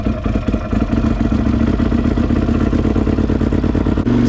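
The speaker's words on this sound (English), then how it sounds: "me and Landon are going to take the Can-Am and go hit some mud holes" Can-Am side-by-side engine running at low speed, a steady close mechanical chug and clatter with slight pitch shifts, continuous with no talk.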